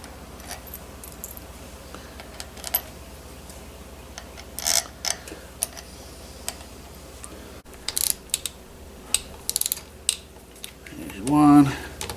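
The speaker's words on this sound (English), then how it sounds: "So we're just going to tighten them down." A ratchet tightens bolts on a PW80 engine, giving short bursts of rapid clicking spread across the clip, with quiet gaps between them and a louder rustle near the end.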